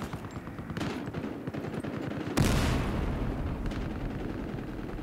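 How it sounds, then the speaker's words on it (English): A grenade blast in a Battlefield Hardline game firefight lands as one loud, sudden boom partway through, with a long rumbling tail, after steady rapid gunfire close by. "Tossing a grenade!"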